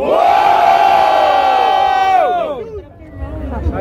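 Crowd at a rap battle erupts in loud cheering and shouting, a massed roar of voices that holds strongly and then breaks off, fading into scattered calls and murmur.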